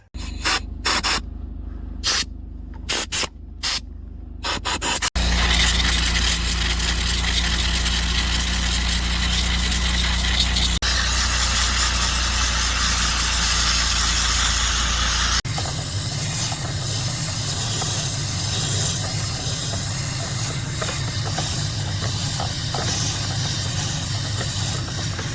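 A pressurized sprayer hisses steadily while cleaning the air-conditioner evaporator of a Kia K5, after a few short bursts, a continuous loud broadband rush with shifting tone, close up, with no talking.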